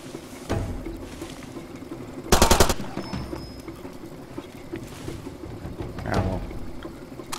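Enemy gunfire in Far Cry 2: a short burst of rapid automatic shots, distinct and fairly close, among scattered lighter thuds and a duller report later, with no voices.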